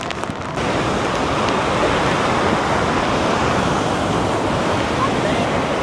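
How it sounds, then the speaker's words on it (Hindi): Waterfall on a day trip near Satara, India, with water rushing in a loud, steady, unbroken roar heard up close and alone. "वाटरफॉल की आवाज़ तो हम कुछ कर ही नहीं सकते"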